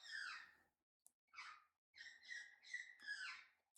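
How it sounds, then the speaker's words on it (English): A bird calls from outdoors in a series of clear, moderately distant phrases, breathy rising notes and repeated tonal whistles separated by short pauses. "Can you hear the bird?"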